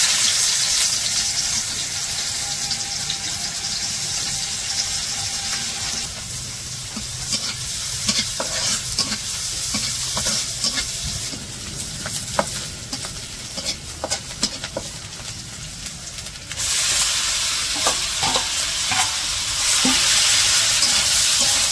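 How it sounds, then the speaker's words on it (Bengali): Onion, green chili and garlic sizzle loudly in hot oil in a wok during village cooking, a steady frying hiss with stirring clatter throughout and a brighter surge near the end. "তো কড়াইয়ে তেল দিয়ে দিচ্ছে, এখন পেঁয়াজ কাঁচামরিচ আর হইতেছে রসুন দিয়ে দেবো বাগারে"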